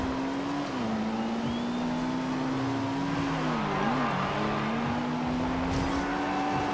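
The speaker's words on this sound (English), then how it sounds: "I'm gonna pull a drift real quick." Car drifting in the racing game Forza Horizon 2: a loud, continuous engine drone holding a steady pitch, dipping and rising as the throttle shifts, with faint tire noise, no talk.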